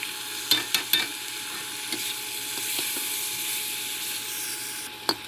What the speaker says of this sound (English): We let it cook a little bit because you need to cook the mushroom and also the zucchini a little bit.